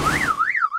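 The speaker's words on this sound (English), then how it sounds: "The signal? Like an alarm signal," A cartoon alarm signal wails as a loud electronic tone sweeping up and down in smooth repeated cycles, close and alone without voices.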